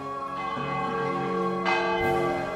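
A church bell rings with a sustained, resonant metallic tone and long decay, struck again partway through, clear and alone.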